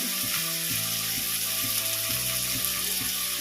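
Kothu porotta being sautéed in a pan, a dense steady sizzle with regular rhythmic metallic chopping clanks of the spatula, close and continuous, with no talking.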